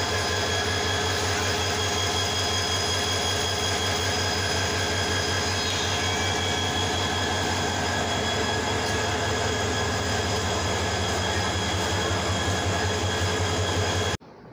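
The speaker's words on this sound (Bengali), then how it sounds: "10:04 কুমিল্লা রেল স্টেশন প্রবেশ করল।" The Nasirabad Express rolls into Comilla railway station with a loud, continuous rumble of wheels and a rhythmic clatter over rail joints, heard close by until it cuts off abruptly.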